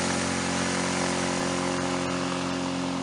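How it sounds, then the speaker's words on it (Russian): A Tohatsu outboard boat motor drones nearby with an even hum, unbroken throughout, with no voices over it. "Тохатсу, мотор Тохатсу."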